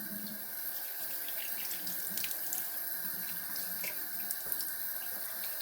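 A bathroom tap runs steadily into a sink while a face is rinsed after shaving, a close, continuous hiss of flowing water with small splashes and no talking.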